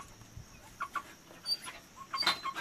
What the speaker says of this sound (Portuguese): Olha pra esse galo aqui.